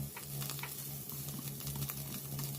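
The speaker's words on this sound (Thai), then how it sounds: "ผัดไปให้หอม" Bacon stir-fries in a pan for a spicy Korean-style instant noodle dish, giving a constant crackling sizzle with scraping stir strokes and a low steady hum beneath, close and unbroken.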